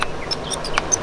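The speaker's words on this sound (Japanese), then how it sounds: "かわいい鳥の声が" Small birds chirp near an outdoor campsite, a few short high calls repeating at a quick, uneven rhythm over a soft steady background, fairly close and clear, with no talk.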